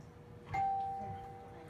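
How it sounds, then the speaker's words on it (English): A single doorbell chime held down for one ring, a clear sustained tone that rings out and slowly fades in a quiet indoor room. "I'm hitting the doorbell and I'm pressing and holding onto it, so it's only one bell."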